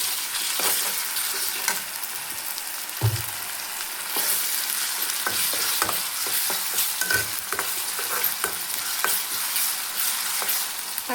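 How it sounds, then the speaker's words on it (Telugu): Ginger garlic paste fries with onions in a pan for mutton fry, giving a constant loud sizzle broken by stirring scrapes and a few spatula knocks, close and without speech. "ఒక 2 స్పూన్ల పైన అల్లం వెల్లుల్లి పేస్ట్ వేస్తున్నాం."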